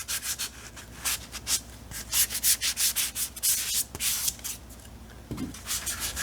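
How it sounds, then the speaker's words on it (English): Rhythmic hand sanding of a Hekman side table, quick scratchy back-and-forth strokes rubbing close up over a coat of stain, steady and brisk with short pauses. "I'm just sanding just a little on all of them"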